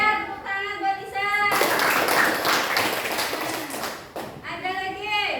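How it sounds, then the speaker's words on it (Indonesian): Schoolchildren burst into applause for a classmate in a classroom, a dense wash of many small hands clapping for about two and a half seconds, framed by a teacher talking before and after. "tepuk tangan buat Isa."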